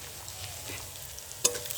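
Onion sizzles in hot oil in a pan as it fries before snails (guguli) go in, a soft steady crackle with one sharp clink of a utensil near the end.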